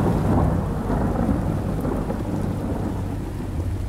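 Heavy rain pours in a low, rumbling wash with continuous distant thunder rolling underneath, dense and steady without any voices, setting the scene for a cartoon horror story.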